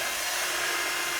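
A Xiaomi Mijia water ion hair dryer blows at full power, a loud, steady broadband airflow roar held close without a break and with no talk over it.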